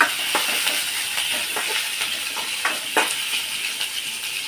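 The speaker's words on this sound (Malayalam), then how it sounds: "ഇനി നമുക്ക് കുറച്ച് നേരം ഒന്ന് വഴറ്റി കൊടുക്കാം" Ginger and green chili are sautéed in a pan, a steady hissing sizzle broken by scattered clinks and scrapes from stirring, close and moderately loud, with no voices.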